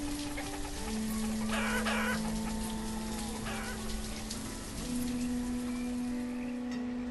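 Chickens clucking and a rooster crowing in the village farm of the city-building game Banished, with steady bird calls over a continuous tonal ambient drone and soft background noise.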